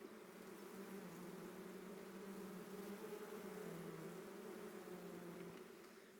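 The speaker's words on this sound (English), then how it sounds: "That's a sign the bees are just starting to get a little bit agitated" A dense, steady drone of many agitated honeybees buzzing together in a hive, low and faint, swelling slightly in the middle.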